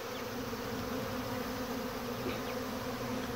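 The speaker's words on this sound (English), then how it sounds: "You can see the amount of bees that, and I'm right in the midst of them." Honey bees swarm around a very active hive in a bee yard, giving a dense, continuous buzzing drone that stays close and even throughout, with no talk.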